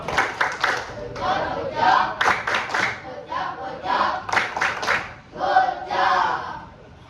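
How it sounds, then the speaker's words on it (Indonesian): Indonesian classroom of students doing a rhythmic patterned clap in time together, loud and close, with shouts and voices chanting along between the claps. "kita beri tepuk gojok tadi ya"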